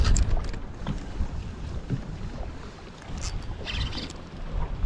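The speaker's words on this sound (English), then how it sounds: "I'm getting just hoofed by like 20-mile-per-hour winds at the back" Strong gusting wind buffets the microphone at a riverbank outflow during a saltwater fishing trip, a steady rumbling roar with surging gusts and faint water splashes, no talking.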